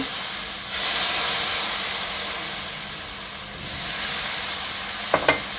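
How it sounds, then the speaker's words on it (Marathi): Hot water poured onto cabbage pithla sizzling on a tava griddle gives a loud burst of steamy hissing that fades and swells again, ending with a couple of light utensil taps nearby. "चला मी आता गरम पाण्याचा हप्ता देते"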